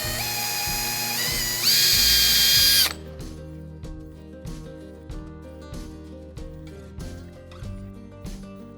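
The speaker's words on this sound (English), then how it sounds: "you want to kind of match that angle with your drill." A power drill bores holes through a kayak hull on a Hobie Pro Angler, starting with a loud whining run that rises in pitch, then a series of shorter bursts and ratcheting clicks, close and without talk.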